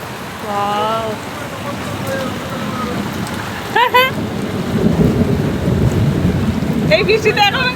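Heavy downpour drenching a street and a grandfather's shop during a sudden storm, with steady loud rain hiss, a sharp crack of thunder near the middle and rumbling after, while a person speaks briefly early on.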